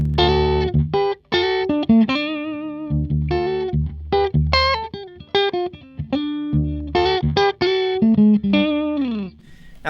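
A clean electric guitar through a Boss ME-70 multi-effects unit plays a short phrase of ringing single notes and chords, loud and close, with no talk.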